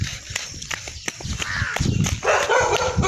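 A dog barking near a house during an early morning walk, several sharp barks at irregular intervals, fairly close, over footsteps and outdoor noise.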